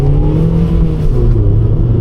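A light Toyota with a 1.3 engine accelerates, its steady loud engine drone rising slightly in pitch from inside the car, with no talking.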